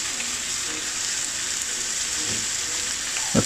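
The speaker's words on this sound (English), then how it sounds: "Now I'll add some yogurt, guys." Yogurt hitting a hot pan of chicken gives a steady, loud sizzle and frying hiss throughout, with a brief soft stir or clatter near the end.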